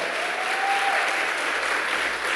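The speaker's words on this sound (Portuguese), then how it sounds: "Vamos dar salva de palmas" Sustained applause from a church congregation for a couple during a service, steady dense clapping throughout, fairly loud and close.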